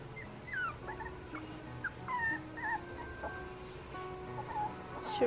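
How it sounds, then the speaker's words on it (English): A toy poodle puppy left alone at bedtime cries and whimpers in repeated high, wavering yips and whines, fairly close and persistent over a low background hum, with no talking. "he is really crying out here, but I'm not letting him out because it's bedtime"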